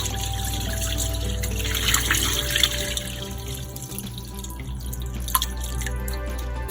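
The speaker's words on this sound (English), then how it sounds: "So I'm just pouring the cold water, fresh water from the tap." Cold fresh water pours from a kitchen tap into a container while making rasmalai. The trickle is close and continuous, with small drips and splashes throughout.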